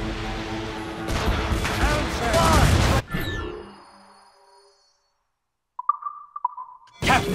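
Ship cannons fire in a naval battle in the video game Assassin's Creed Rogue: heavy booming blasts pile up over a couple of seconds, then fade into quiet, and short tonal game sounds follow near the end.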